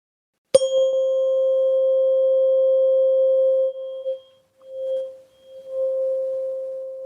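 A single pure, steady solfeggio-frequency sine tone begins abruptly and holds at one pitch, then flickers and fades in and out near the end.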